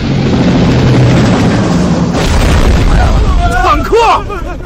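A tank fires from a rooftop in a dramatic action scene, a heavy booming blast with rumbling low-end impact, followed by crackling debris and whooshing effects as the explosion fades.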